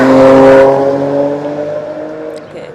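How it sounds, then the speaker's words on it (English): A car roars past close by on a road near rice fields in the Ebro Delta, loud at first, then its engine hum fades steadily into the distance. "Okay, crazy cars."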